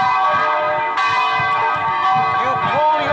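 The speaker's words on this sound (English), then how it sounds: "You search desperately for a way of stopping the bell." A large bell vibrates in a dungeon in the interactive adventure game Deathtrap Dungeon, a loud, sustained metallic ringing with wavering overtones and a fresh strike partway through.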